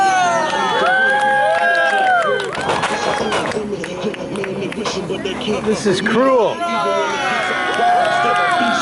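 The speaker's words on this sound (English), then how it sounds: "You're cheering him now." A wrestling crowd at an SPW show in 2015 cheers and shouts loudly throughout, with a dense babble of voices and whistles close by, while someone speaks over the noise.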